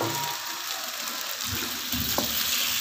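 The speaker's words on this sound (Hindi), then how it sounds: "इस तरह से मैं अरवी को फ्राई कर लूँगी।" Taro root (arvi) fries in a pan with a constant close hiss of hot oil, plus a few faint clinks and stirring scrapes.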